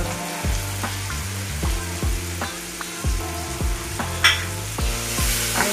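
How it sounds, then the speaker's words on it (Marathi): Onion and tomato sauté in a pan with turmeric and salt, a steady close sizzle broken by regular stirring scrapes and clinks at roughly half-second intervals, with no talk over it. "आणि छान असं परतून घ्यायचं आहे।"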